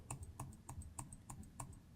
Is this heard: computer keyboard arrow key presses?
yes